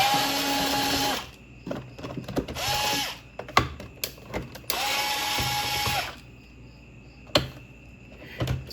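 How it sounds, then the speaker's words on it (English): An electric screwdriver backs screws out of a panel on a ninth-generation Toyota Corolla. It gives several close bursts of whirring, ratcheting buzz with short pauses, clicks and handling noises between them. "So nice that I have this electric screwdriver. It makes this easier."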